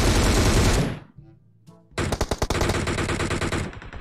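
Automatic gunfire in the mobile battle-royale game BGMI: a dense, loud burst, a short lull, then rapid staccato shots resuming and continuing to the end.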